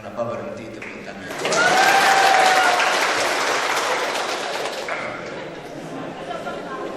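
Audience applause at an Islamic college's graduation ceremony, clapping that swells loudly and holds for several seconds before easing off, with crowd murmur and a voice over it.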